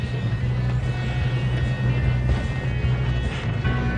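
Moving train in the video game Red Dead Redemption 2, a steady loud rumble with rolling mechanical hum and clatter continuing throughout.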